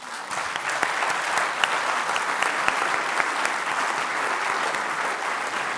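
Audience at the Index on Censorship Freedom of Expression Awards applauding, a dense steady clapping from a crowd, loud and sustained throughout.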